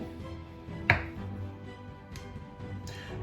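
A knife cuts pecorino cheese into small pieces on a board, with one sharp, distinct chop and a few fainter taps afterward in a quiet kitchen.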